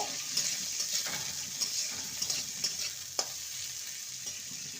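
Chopped capsicum and carrot fry in a pan, giving a steady sizzle broken by several sharp clicks and scrapes as a spoon stirs the vegetables. No voices are heard.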